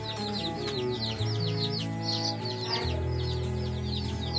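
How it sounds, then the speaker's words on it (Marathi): Desi country chicken chicks being brooded indoors at home make dense, continuous high-pitched peeping and cheeping, many birds chirping at once close by, with a steady low hum running underneath and no talking. "अशा पद्धतीचे आपले पिल्ले आहे।"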